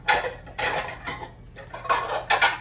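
A bowl being set out on a kitchen counter for breading fried green tomatoes, heard as several clattering knocks of dishware and utensils in short bursts, fairly close, with no talking.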